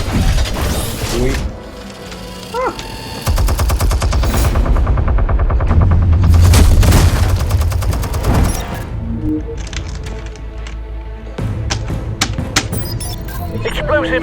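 Heavy gunfire and explosions from the Batman Telltale Series video game: rapid bursts of machine-gun fire with loud crashes and booms, dense and close. A voice speaks briefly during the action.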